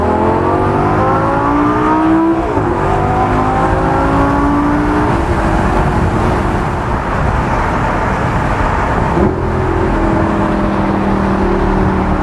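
A Lamborghini Gallardo LP560-4 Spyder engine revs hard as the car downshifts, with a throttle blip and a rising pitch during acceleration onto a highway. The engine is loud and close throughout, with a second shift near the end.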